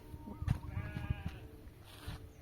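Sheep bleat faintly amid outdoor ambience, a few short wavering calls over a low background rumble.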